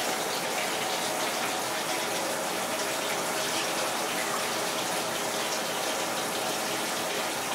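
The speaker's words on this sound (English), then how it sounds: "by mixing the warm and cool water bottles together" Water pours in a steady, loud, unbroken gush as warm and cool water from two bottles are mixed together in a film-developing darkroom, continuing alone without any talk throughout.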